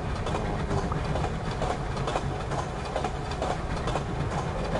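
A train rolling along in the VR game Cave Digger: Riches, a steady dense rumble with faint rhythmic clatter running unbroken throughout, no voices.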